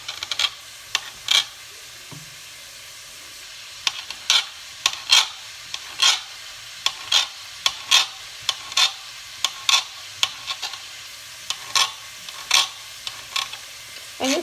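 Repeated short scraping cuts of a knife slicing sausages in half on a board, roughly a dozen crisp strokes in an uneven rhythm, close and clear with no talking.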